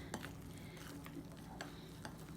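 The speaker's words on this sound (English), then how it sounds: "So now I'm just stirring it." Cinnamon ornament dough mixed with glue being stirred in a bowl, giving a steady run of soft scraping and occasional light clinks of a utensil against the bowl, quiet and close with no talking.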